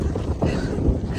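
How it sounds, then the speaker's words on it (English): Strong, cold wind buffets the microphone at Chiva Falls near Tucson, a low continuous rumble with gusty swells and no talking. "So windy."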